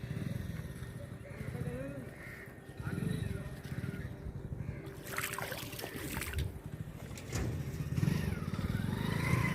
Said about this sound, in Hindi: देखिए बाइक चला दिया इन्होंने